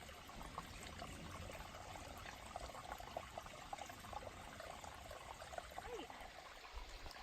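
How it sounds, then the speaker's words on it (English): Water trickling from a trail water source into a water bottle outdoors, a steady soft splashing dribble that stays constant and fairly faint, with the bottle slowly filling. "I don't know if you can see how the water bottle is filling up here"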